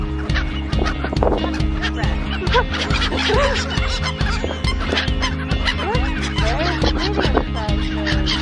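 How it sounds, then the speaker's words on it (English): Geese being fed by water in London, honking and cackling in a loud, busy flock close by, with overlapping calls and a low hum underneath. "I think they're geese or something."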